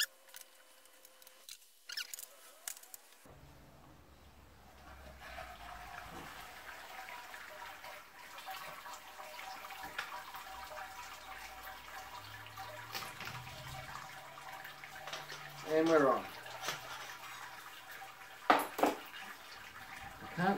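Wort drains from the lifted grain basket of a Robobrew Gen 3 all-in-one brewer during a step mash, a steady close trickle and splash with the pump switched off, a few louder splashes and clunks late on.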